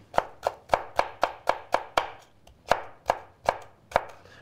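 A knife chops red pepper into strips on a cutting board in a run of crisp, evenly spaced thuds, about a dozen close sharp strokes with a brief pause midway and no voices.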